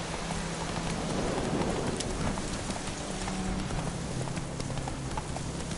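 Geralt's horse Roach gallops in The Witcher 3, rapid rhythmic hoofbeats close and steady over a dense bed of rain-like noise, with no talk.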